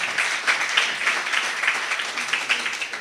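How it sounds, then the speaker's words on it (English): An audience at a TikTok night event on responsible content applauds a speaker with steady, dense clapping that holds at an even level throughout. "another round of applause for Bobby."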